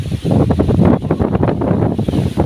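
Strong wind over an open farm field roars and buffets the microphone in continuous gusts, loud and close.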